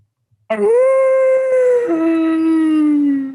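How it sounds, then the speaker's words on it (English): A single long wolf howl, loud and close, rising then sliding down in pitch and holding a mournful tone. "We start with the sound of a wolf howling."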